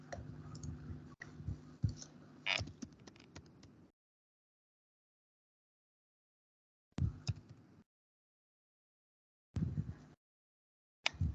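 Typing on a computer keyboard in bursts of rapid clicking, with long silent gaps between short runs of keystrokes, close and fairly quiet.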